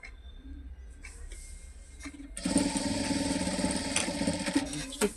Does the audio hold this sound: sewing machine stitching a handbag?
yes